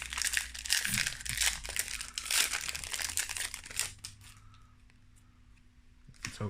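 A Magic: The Gathering Modern Horizons 2 booster pack being torn open: close, loud crinkling and ripping of foil wrapper in rapid bursts for about four seconds, then quieting to soft rustles with a few final crackles.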